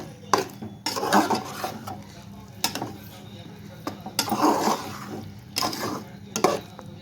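Chicken kurma being stirred in a pan, with a series of scraping, clattering utensil strokes against the cookware, some louder bursts spaced irregularly over a quiet kitchen background.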